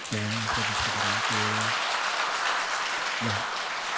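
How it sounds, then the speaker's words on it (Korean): Church congregation applauding during a Sunday service, a steady broadband wash of clapping that holds for the full stretch, with a voice speaking briefly over the start and again near the end. "인사하실 때 큰 박수로 여러분 한번"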